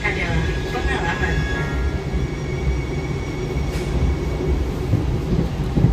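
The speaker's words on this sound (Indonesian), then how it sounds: "Lokomotifnya CC 6 sih, jadi akselerasinya cepat." CC 6 locomotive hauling the KA Mataram economy train between Jakarta and Yogyakarta as it accelerates, a loud continuous rumble and rattle of wheels and carriage with rising tonal whine, heard from inside the train.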